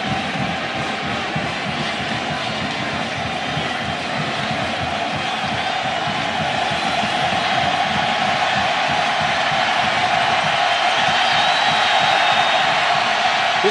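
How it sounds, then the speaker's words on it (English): A packed football stadium crowd roars loudly and continuously at an Oregon home game against Oklahoma, a dense, swelling wall of noise with no voices standing out, building slightly louder toward the end. "This crowd is deafening."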